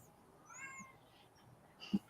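A cat gives a short, faint meow, followed by a soft thud. The room is otherwise quiet.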